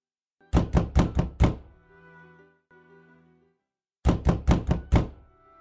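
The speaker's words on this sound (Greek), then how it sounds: "σιμώνει και χτυπά την πόρτα και μπαίνει μέσα" Knocking on the door of a large house standing in the middle of a wide plain: two bursts of about five sharp, loud, evenly spaced knocks, separated by a few seconds of faint tonal sound, with no voices.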